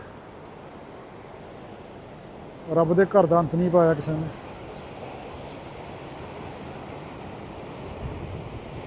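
Ocean waves wash steadily against the Portuguese coast in a broad, constant roar mixed with wind, while someone speaks briefly partway through.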